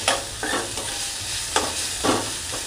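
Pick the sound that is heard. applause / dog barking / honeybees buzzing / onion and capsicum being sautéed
onion and capsicum being sautéed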